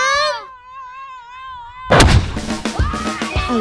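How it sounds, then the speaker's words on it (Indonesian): A bamboo cannon loaded with kerosene goes off in one sharp, booming blast. Wavering, voice-like tones come just before it, and voices follow the blast. "tinggal sulut lubang kecil pada pangkal meriam"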